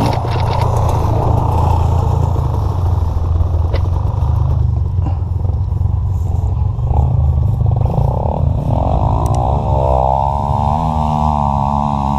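A Husqvarna TE330 dirt bike with an XRE engine running on a forest trail, its loud steady engine note revving and clattering close by for the whole stretch, with faint voices now and then.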